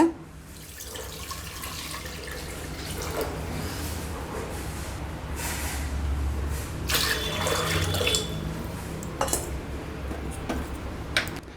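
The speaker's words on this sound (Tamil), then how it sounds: "இப்போ இதில் 8 கப் தண்ணி சேர்த்துக்கலாங்க." Water runs steadily from a tap into a cooking pot while making sweet pongal, a continuous rushing pour with small splashes and a few clinks of metal, close and moderately loud.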